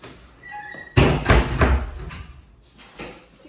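A dorm room wardrobe door is opened, giving one sharp knock followed by a second of rattling and sliding, then a faint tap at the end.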